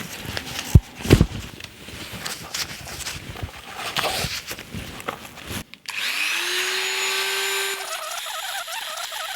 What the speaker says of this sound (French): je vais fendre l'ancienne bague, je vais l'attaquer au Dremel